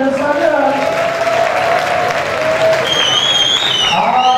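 Audience applause in a nightclub during a drag show, a steady clapping wash under an amplified voice and music throughout.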